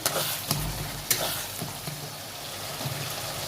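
Tomatoes with salt and turmeric are stirred in a sizzling pan: a few sharp spatula knocks and scrapes land over a continuous close frying hiss, with no talking.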